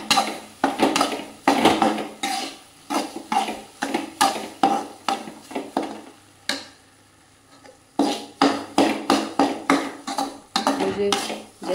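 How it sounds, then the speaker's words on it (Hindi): Semolina is roasted in a pan for halwa, a spoon scraping and clanking against the metal in quick rhythmic strokes with a faint sizzle, pausing briefly midway before resuming. "तो ये सूजी को भून रही हूँ अच्छे से।"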